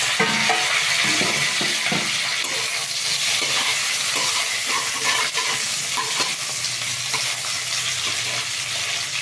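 Tomato frying in a hot pan for a Bengali stripped dwarf catfish (tangra) dish, with a steady broadband sizzle and repeated scraping stirs of a spatula throughout, close and continuous, no talking.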